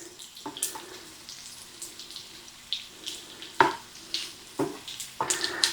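Bacon frying in a pan, a soft crackling sizzle with intermittent louder pops and scrapes, fairly close and low in level with no talking.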